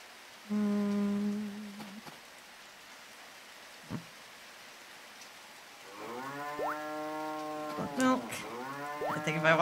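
Cows moo in the Harvest Moon DS Cute video game, several drawn-out electronic calls in separate bursts over a faint patter like rain, the later moos overlapping closely near the end.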